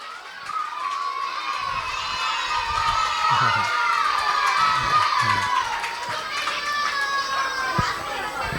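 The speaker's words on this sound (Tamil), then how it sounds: "நல்லா கைத்தட்டி அவங்கள வரவேற்போமா?" Children at a Vacation Bible School crowd together in a lively welcome before a magic show, a bright chorus of cheering and shouting voices, sustained and fairly loud throughout, with some sharp accents near the end.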